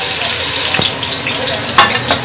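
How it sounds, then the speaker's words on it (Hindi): Ingredients fry in two tablespoons of hot oil for an anda chana daal, a close, continuous sizzle with a couple of sharper stirring scrapes. "और इसको थोड़ा सा फ्राई करेंगे।"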